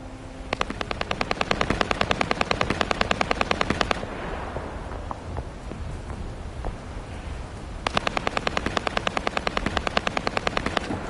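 Machine gun fire in The First Descendant, two long rapid bursts of evenly spaced loud shots separated by a few seconds of rumbling battle ambience.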